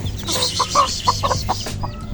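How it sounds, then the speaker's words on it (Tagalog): Several chickens cluck close by in a quick, uneven series of short notes over a low background murmur. "ang manok ang daming manok"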